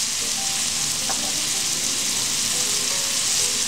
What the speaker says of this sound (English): We'll just let these saute.